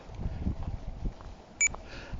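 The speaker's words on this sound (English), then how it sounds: "That beep is me scanning parcels for delivery." A single short electronic beep sounds from a handheld scanner scanning parcels for delivery amid low rumbling traffic noise, brief and fairly clear.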